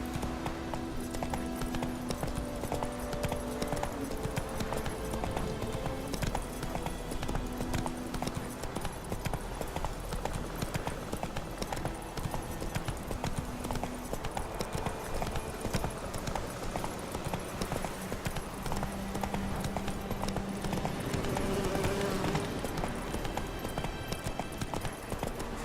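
Horse hooves galloping in the video game The Witcher 3, a steady rapid clip-clop over a constant backdrop of game music and ambience, moderately loud throughout.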